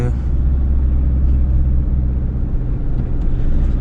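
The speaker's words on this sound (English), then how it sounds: "if you just put your foot down, ample of grunt to make easy overtakes" Mahindra Scorpio SUV under hard acceleration on the road, a steady deep engine rumble and drone heard from inside the cabin, loud and continuous throughout.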